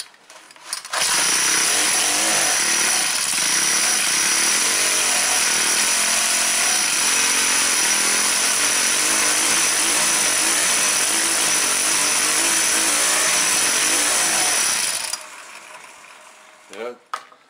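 A Troy-Bilt four-cycle string trimmer engine with a suspected plugged carburetor, running half-choked with the air breather cover off, roars loud and steady for about fourteen seconds, then cuts out abruptly.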